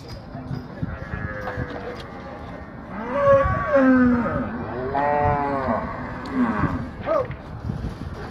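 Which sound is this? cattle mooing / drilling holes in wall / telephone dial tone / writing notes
cattle mooing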